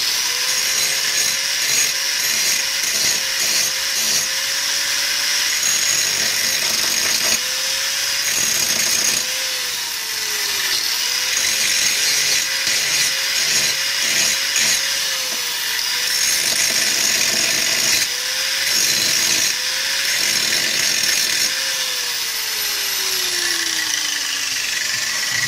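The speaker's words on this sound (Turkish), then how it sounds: "biraz taşlama yapacağım." A grinder works over a fresh weld on a broken Bay-tec metal vise, giving a continuous, loud, high metallic whine whose pitch dips and recovers repeatedly as the disc bites in.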